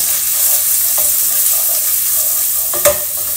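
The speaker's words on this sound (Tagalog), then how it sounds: "Gisa ng aking gulay." Vegetables sauté in a pan with a steady sizzle, and a spatula stirs them with a sharp scrape near the end, close and continuous.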